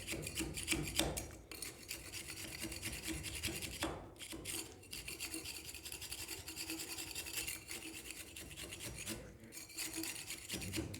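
Old wallpaper being scraped off an old wall with a riflard scraper blade, a close, continuous rasping scrape in long strokes with a few brief pauses between passes.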